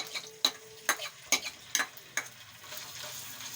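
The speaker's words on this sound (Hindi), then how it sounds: "हमने फ्राई पैन में ऑयल डाल के गर्म होने के लिए रख दिया था" Garlic, ginger and green chili paste sizzle in hot oil in a frying pan, with a few sharp stirring clacks at a steady rhythm over the quiet frying, no voices.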